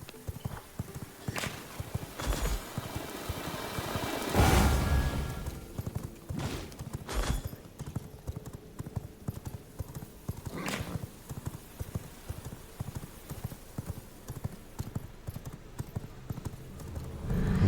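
A horse in V Rising clip-clops in a steady trotting rhythm of hoof beats with a few louder thumps, plus a brief neigh, loud and close throughout.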